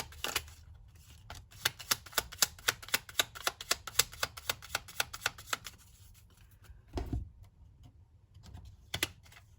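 Tarot cards are shuffled by hand in a rapid rhythmic riffle of crisp, close clicks for several seconds, followed by a soft thud and a few scattered flicks, with no talk.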